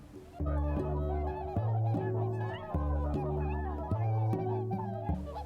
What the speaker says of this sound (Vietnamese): Lần đầu tiên trong đời tụi mình được nhìn thấy nhiều thiên nga đến thế.